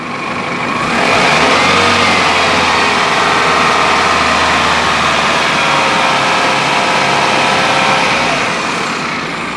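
A car engine revs up hard during an alternator charging test, roaring loud and steady for several seconds before easing off, with no talk over it.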